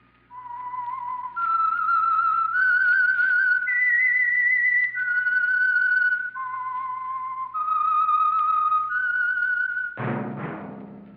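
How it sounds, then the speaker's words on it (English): A single person whistles a slow, clear melody of sustained notes, close and steady, ending with a brief low sound; the signature theme of the 1946 radio drama The Whistler. "That whistle is your signal"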